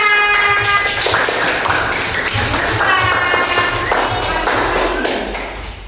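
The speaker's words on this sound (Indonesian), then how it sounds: "Beri tepuk tangan." Students in an Indonesian classroom during a fiqh lesson on congregational prayer clap together for the first group coming to the front, a dense run of sharp taps for about six seconds, with some voices and tones mixed in before it fades.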